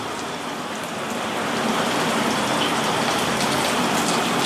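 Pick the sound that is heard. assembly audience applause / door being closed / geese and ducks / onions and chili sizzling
onions and chili sizzling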